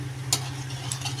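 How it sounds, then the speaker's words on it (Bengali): Whole cumin seeds fry in hot oil, making a steady close sizzle with a couple of brief spoon clicks. "এইবার দিয়ে দেবো তেল, জিরে, সাবুত জিরে দিয়ে দিলাম"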